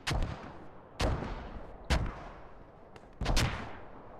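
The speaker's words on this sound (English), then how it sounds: "So US side really on point with the mortars, getting a lot of kills over there." Mortar strikes land during a competitive team match in a military shooter game: four heavy booming impacts, each a sharp loud crack trailing into rumble, spaced roughly a second apart with a low continuous battle din between them.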